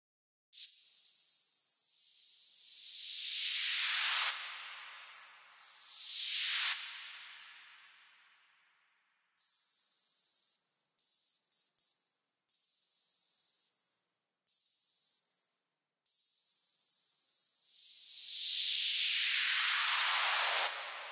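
Filtered white-noise downlifter built with Ableton Live's Operator synth, several loud hissing bursts sweeping downward and fading, interrupted by short choppy gated stabs, then one long final swell, all alone with no voices.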